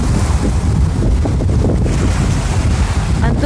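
Ocean waves wash and roar close by as a boat nears a beach, with steady broadband wind buffeting the microphone throughout and no voices.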